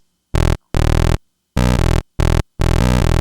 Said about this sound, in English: We're going to be changing it from its default sawtooth all the way to the right so we can get a narrow rectangular.